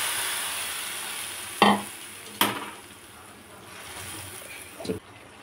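Chicken pieces fry gently in a pan for red chilli ghee chicken fry, a soft continuous sizzle broken by a few sharp clanks of a spoon against the pan.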